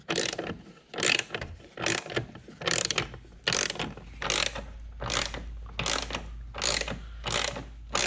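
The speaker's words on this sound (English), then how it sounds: "we've got a 19 millimeter socket down here" A ratchet with a 19 mm socket turns the lower seat belt mounting bolt in a C7 Corvette coupe, giving about nine loud, close, evenly spaced bursts of clicking strokes with no talking.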